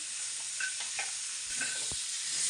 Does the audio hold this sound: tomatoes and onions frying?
yes